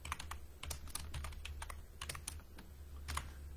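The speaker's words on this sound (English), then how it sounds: "I'm typing out the name of this." Quiet, rapid keyboard typing with irregular clicks over a low steady hum, no voices.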